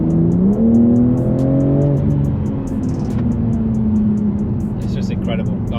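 A 2024 BMW M3 G80 xDrive drives along with a loud, steady engine drone that climbs in pitch as it accelerates, then settles into an even cruise.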